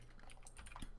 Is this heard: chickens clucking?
no